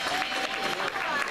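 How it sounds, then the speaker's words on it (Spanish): Brief burst of audience applause at an Arab music and dance show, dense clapping from a crowd with faint voices mixed in, steady and moderately loud. "Fuerte el aplauso."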